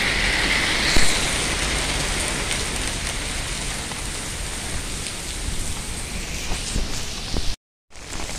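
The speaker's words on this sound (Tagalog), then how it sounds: "dito tayo sa labas. Maulan." Steady rain falls outdoors on a wet day, a dense continuous patter close by with no voices, cutting out briefly near the end.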